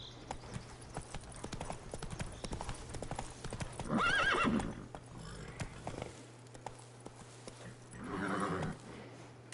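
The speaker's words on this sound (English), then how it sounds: "Run, Roach." Video game horse in The Witcher running steadily, rhythmic hoofbeats with two loud whinnies breaking in, against a faint background hum.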